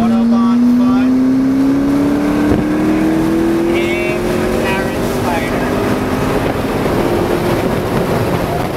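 Gemballa McLaren GT Spider accelerating hard on an unrestricted stretch of the German Autobahn, a loud engine note climbing steadily in pitch through a long pull amid heavy wind rush, with someone talking over it.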